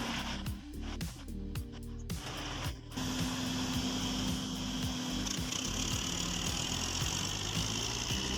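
A heavy logging truck's engine strains in a long, steady heave to pull free of deep mud, a loud, continuous low drone that thickens and holds after a few rougher, uneven bursts at the start.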